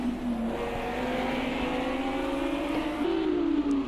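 A Lamborghini race car on the Long Beach street circuit in a racing video game whines loudly as its engine pitch climbs steadily, then jumps with a gear change, alone and close.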